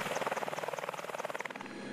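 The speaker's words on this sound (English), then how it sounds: "AH-64 Apache attack helicopters are a vital asset of the U.S. Army" AH-64 Apache attack helicopter of the U.S. Army, its rotor producing a rapid, steady blade chop with turbine whine, loud and continuous throughout with no voices.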